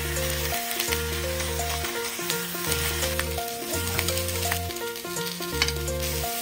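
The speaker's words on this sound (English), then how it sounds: "Heat oil in a pan and sauté cherry tomatoes and ham slices." Cherry tomatoes and ham slices sautéing in hot oil in a pan for avocado toast, a close, steady sizzle with stirring under background music.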